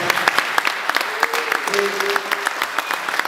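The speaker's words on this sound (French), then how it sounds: "je vous demande déjà de vous applaudir toutes et tous" Audience applauding at a speech event in France, a dense burst of clapping that runs steadily through the moment with a voice faintly audible over it.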